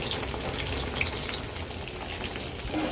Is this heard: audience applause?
no